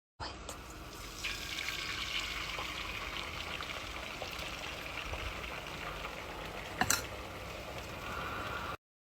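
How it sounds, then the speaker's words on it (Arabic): Eggs frying in hot oil in a pan, giving a steady broadband sizzle that holds for several seconds, with one brief louder crackle near the end. "هذا الزيت حامي، رح انزل البيض"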